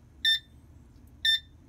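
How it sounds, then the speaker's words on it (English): A GrabLab450 enlarger timer in metronome mode gives two short, bright electronic beeps about a second apart, clear and alone against a quiet background. "this simply sends out a beep as it counts down"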